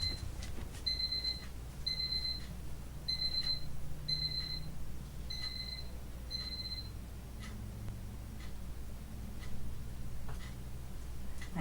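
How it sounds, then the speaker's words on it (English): An electronic alarm sounds in a quiet indoor room, giving six evenly spaced bursts of high, quick double beeps before it falls silent over faint background hum. "I thought I had turned off all the alarms that might possibly come on."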